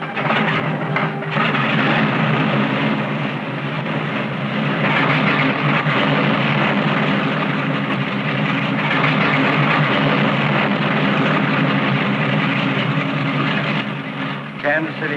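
A 1950-era TWA passenger airplane in flight produces a steady, loud engine drone with a broad roar that stays even and unbroken throughout.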